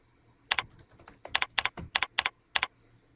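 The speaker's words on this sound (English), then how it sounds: "we'll type in an answer here that is wrong" Typing an answer on a computer keyboard: a quick burst of about a dozen crisp, close key clicks in uneven clusters, then quiet, with no talk.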